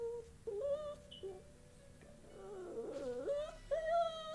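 A distressed pet dog, left anxious at home, whimpers and whines indoors in several high, wavering moans, with quiet gaps between cries and no talk over them.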